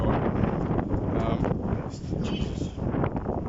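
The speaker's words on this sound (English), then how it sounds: "It's pretty friggin' windy at the moment" Strong sandstorm wind roars hard against the microphone in a dense, unbroken rush with gusty swells, nearly drowning out a voice speaking underneath.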